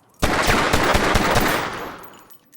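Gunfire in a film scene: a sudden, loud burst of rapid automatic shots and crashing impacts that rattles on for about a second and a half, then fades away.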